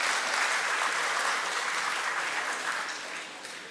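Loud, steady applause from a live audience welcoming a poet onto the stage at a poetry gathering, sustained throughout and easing slightly toward the end, with no voices over it.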